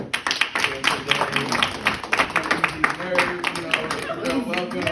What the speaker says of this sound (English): Let's get a round of applause for everybody.